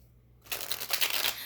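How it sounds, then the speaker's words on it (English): Tarot cards being shuffled, a soft papery riffling rush that starts abruptly after a brief near-silent pause and continues steadily close up, with no talking. "Let me see these cards. Let me see tarot for a minute."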